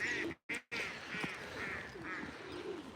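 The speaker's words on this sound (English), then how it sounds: "That's a very vocal duck" Duck in an urban park quacking loudly and repeatedly at close range, several harsh calls in quick succession over faint outdoor background on a winter morning walk.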